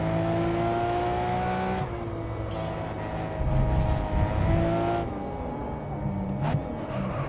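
A race car in GRID Autosport revs and power slides, a loud engine whine that drops and rises again with a rough, gritty burst mid-slide, no voices.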